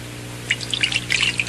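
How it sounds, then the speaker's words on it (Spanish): Water being poured from another container back into a measuring cup, heard as a brief run of small splashes and drips, close and fairly quiet, with no talking. "Finalmente, vacía el agua de nuevo en la taza medidora."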